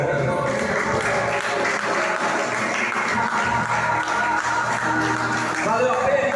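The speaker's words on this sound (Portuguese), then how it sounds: "Aplauda bem forte." A church congregation claps loudly and continuously, a dense wall of applause with voices and cheers mixed in throughout.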